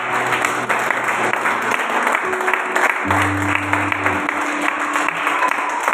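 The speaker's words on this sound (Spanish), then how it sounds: "Denle un fuerte aplauso al Señor en esta noche" Congregation applauding in church, a steady wash of clapping that fills the space with organ or keyboard notes sounding underneath.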